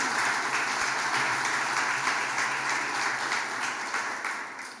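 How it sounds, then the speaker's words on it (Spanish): A church congregation applauds in a broad, sustained wash of clapping from many hands. It stays fairly loud and even before tapering off slightly toward the end, with no voices over it. "Den un aplauso al Señor"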